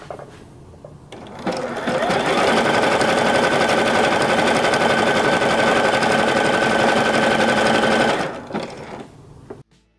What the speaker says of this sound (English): the machine will automatically switch the settings to a zigzag stitch